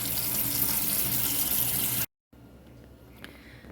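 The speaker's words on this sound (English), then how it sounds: "rubbing these tomato seeds against this mesh strainer and rinsing them off." Running water from a tap rinses tomato seeds pressed against a mesh strainer, a steady loud gush that cuts off briefly and resumes more softly with faint splashes.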